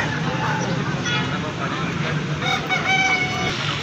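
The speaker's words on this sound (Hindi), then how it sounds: "ये एक मुर्गा है यहाँ पर" An Aseel rooster crows at a busy rooster market in Raja Bazar, Rawalpindi, its call ringing out over constant crowd chatter, clucking fowl and distant road traffic.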